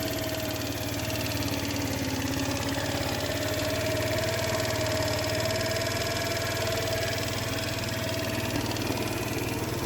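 A Baotian Comfort scooter's GY6 engine idles unevenly, a steady close mechanical drone with a faint wavering tone and rattly buzz running continuously throughout.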